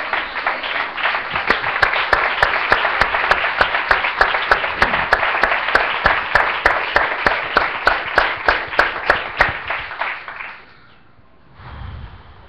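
A church congregation breaks into loud, sustained applause for about ten seconds, dense clapping with sharp rhythmic accents, then fades to near quiet with a low rumble.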